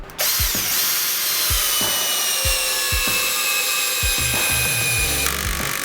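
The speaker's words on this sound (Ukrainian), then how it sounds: "Так, давайте зараз спробуємо 150-й турбогвинт." A Vitals cordless screwdriver drives a 150 mm turbo screw, the motor whining steadily while a regular ratcheting clutch clicks about once a second, then faster stuttering clicks near the end.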